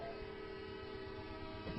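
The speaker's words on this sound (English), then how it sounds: "Every single 30 minutes we hear a train come by." A train rumbling past on railroad tracks near a home, a steady broadband roar with a sustained horn-like tone running through, loud and continuous with no talk.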